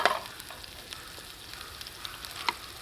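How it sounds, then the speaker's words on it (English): Shallot sizzling in clarified butter for chipped beef on toast, a steady close frying hiss broken by a few sharp utensil scrapes and clicks as it gets a quick stir, with no voices. "And we'll just give that a quick stir."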